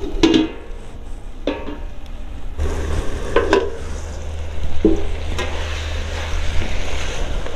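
Potatoes and peas fry in a pan with a steady soft sizzle, broken by several scraping stirs of a utensil against the pan, close by and without talk.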